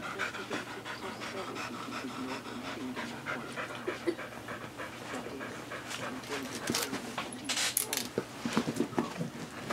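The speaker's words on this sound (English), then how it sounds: "Sorry about the dog breathing" An old dog pants close by in a steady rhythmic breathing pattern, with faint voices and small clicks in the background.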